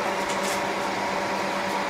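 A microwave oven heats a bar of soap, its steady broadband hum and fan noise running continuously at moderate level with no talk over it.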